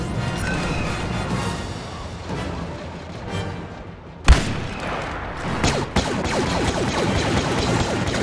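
Artillery barrage in the Star Wars Battlefront multiplayer beta, a sharp loud impact crashing out of a dense battle din, followed by further thuds and blasts over continuous gunfire noise.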